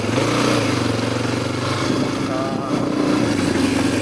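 A Suzuki DRZ250 motorcycle engine, recently run after ejecting oil, idles steadily nearby with a continuous low rumble throughout, with a person talking over it.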